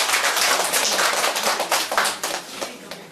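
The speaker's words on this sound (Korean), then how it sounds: "네, 박수 한번 보내주시겠습니다." Seminar audience claps at an education briefing session; a lively burst of many hands clapping close by, strong at first and then thinning out as it fades over a few seconds.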